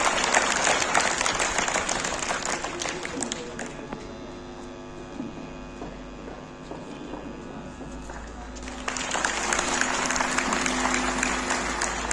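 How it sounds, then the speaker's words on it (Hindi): Audience applause at a Chenab Valley Public School personality development workshop, a dense crowd clapping loudly that eases into a quieter hum and footsteps, then swells into full applause again. "जबरदस्त तालियां।"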